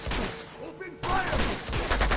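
Gunfire in Uncharted 2: Among Thieves, rapid bursts of shots close and loud, with a sharp jump in intensity midway and shouting voices mixed in.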